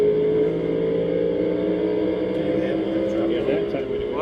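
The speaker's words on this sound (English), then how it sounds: "being able to listen to him work the throttle" NASCAR stock car at Bristol heard from the in-car view, a loud steady engine drone with the driver working the throttle, pitch rising and falling slightly through the lap, with talk under it.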